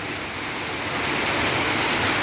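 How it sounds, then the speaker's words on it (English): Steady rain falls on a rainy evening, a dense, even hiss of drops that holds close and loud throughout with no talking. "eventually it's raining."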